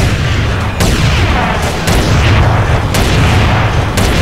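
Shotgun blasts in GTA San Andreas during a modded SWAT versus army deathmatch: loud, close booming shots, roughly four spaced about a second apart over constant game noise, no talk.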